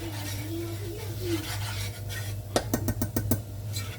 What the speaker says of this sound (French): Et je vais mélanger.